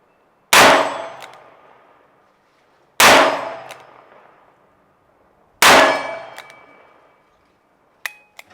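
Bullets, likely .38s, strike a steel target with three loud, ringing metallic clangs spaced a few seconds apart, each decaying slowly, followed by a sharper faint ping at the end.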